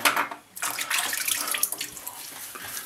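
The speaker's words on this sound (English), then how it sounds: "We're going to wash the razor" Running tap water splashes steadily as a razor is rinsed under the stream, close by with no talking.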